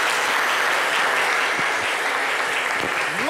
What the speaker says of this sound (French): ce public qui va continuer à les applaudir bien fort